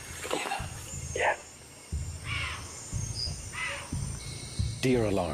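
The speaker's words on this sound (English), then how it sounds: "Deer alarms sound in the distance." Sharp, barking deer alarm calls ring out a few times from far off at night, spaced irregularly over a low rumbling background with faint voices.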